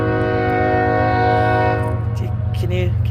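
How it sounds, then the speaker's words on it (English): A slow-moving train rolls past near a pedestrian bridge, its horn sounding a long, steady, loud blast that fades as rumbling wheels take over. "Here comes a train."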